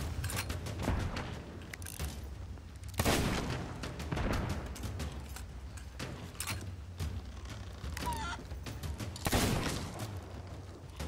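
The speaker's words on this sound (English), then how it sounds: "They both shot me the same exact time." Gunfire in the pirate video game Sea of Thieves, rapid sharp shots and bursts repeating through the clip over a steady low rumble of game background sound.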